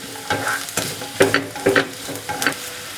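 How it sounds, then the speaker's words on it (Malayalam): Garlic, ginger and green chili sauté in a pan for a duck roast, with several bursts of stirring and scraping over a steady, moderately loud sizzle and no voices. "ഇനി ഇതൊന്ന് നന്നായിട്ട് വഴറ്റി കൊടുക്കുക."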